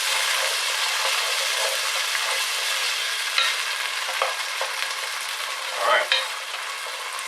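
Beans frying in a pan for Bulgarian bob chorba, a steady close sizzle with occasional stirring scrapes and a brief louder clatter near the end; a voice speaks one short word.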